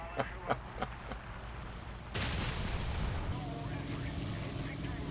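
Rapid machine-gun bursts from a tail gunner in War Thunder, a few sharp early shots followed by a sustained roaring barrage of gunfire and engine noise filling the rest.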